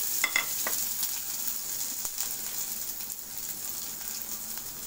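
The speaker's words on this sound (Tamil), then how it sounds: "சிம்மில் வச்சுட்டு வதக்கிக்கோங்க." Ground masala, chillies and curry leaves sizzle and crackle in hot oil on a low flame for tomato rasam, a steady close frying hiss with a few stirring scrapes.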